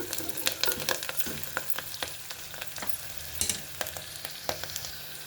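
Onions and ginger garlic paste fry in hot oil for a biryani, a steady close sizzle punctuated by irregular scraping and clinking of a spoon stirring the pan, with no voices.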